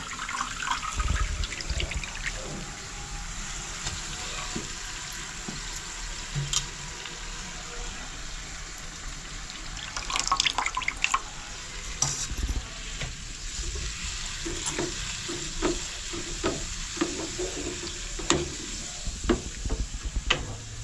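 Potatoes go into boiling turmeric water in a home kitchen, giving a steady bubbling, sizzling simmer with scattered clinks and stirring sounds throughout.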